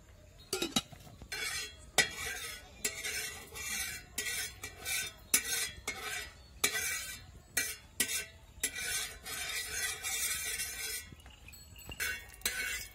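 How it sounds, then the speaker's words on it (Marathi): Oil is spread across a hot iron griddle, giving soft scraping and wiping strokes with light metallic clinks, close and quiet, with no talk. "तर असं तेल लावून घ्यायचं एकदा तव्याला."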